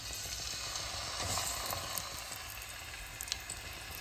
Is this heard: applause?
no